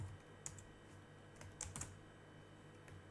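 Keys on a computer keyboard tap quietly and sparsely while a command line is typed on CentOS 8, a few separate clicks and a short burst standing out over a faint room hush.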